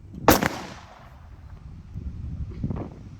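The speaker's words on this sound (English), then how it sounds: "that's Gunfire with Miss Trudi Girl." A single loud gunshot cracks during gun-training for a dog named Trudi, followed by a fainter second bang and some outdoor rumble.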